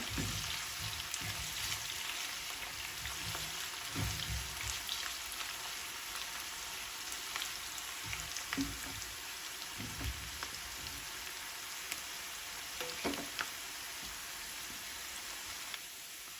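Onions frying in a pan on the stove for a dahi bhindi recipe, a steady soft sizzle and crackle running throughout, faint and uninterrupted.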